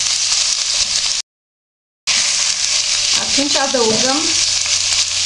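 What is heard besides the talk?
chicken breast searing in a frying pan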